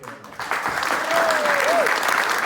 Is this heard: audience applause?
yes